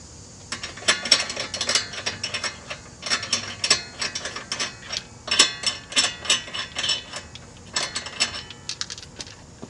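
A ratchet wrench clicks rapidly in bursts as a brake rotor is bolted onto a car wheel hub in a garage, close and loud with short pauses between runs.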